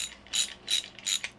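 Ratchet wrench loosening large battery cable terminal nuts, three quick bursts of sharp clicking separated by brief pauses, close up and crisp with no voices.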